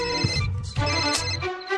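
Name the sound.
phone ringtone, call from a private number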